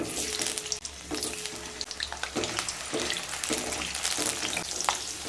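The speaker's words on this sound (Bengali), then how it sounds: "তেল গরম হয়ে গেলে কেটে রাখা 2 পিস আলু ভেজে নেব" Cut potatoes fry in hot mustard oil in a pan, giving a steady, close sizzle with intermittent clinks and scrapes of stirring throughout.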